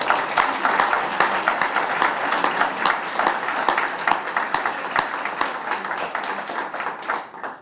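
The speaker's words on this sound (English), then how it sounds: "We have a round of applause for all four of our presenters, please." A large audience applauds presenters after a talk on Mongolian history and culture, a steady dense wash of clapping at close range that holds for several seconds before tapering off at the end.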